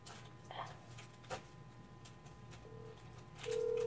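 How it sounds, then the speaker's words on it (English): A mobile phone on speaker places a call, with a few faint tones and clicks followed by a steady electronic ringback tone near the end, in a quiet room. "We're gonna call Cole to see his reaction"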